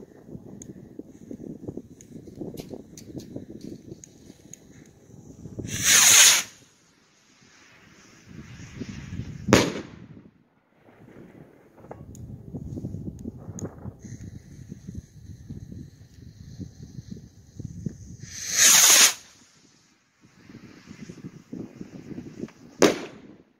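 Jumbo Fireworks brand Tango rockets fire outdoors, each launching with a rising whoosh and bursting in a sharp crack, about two volleys separated by gusty wind noise.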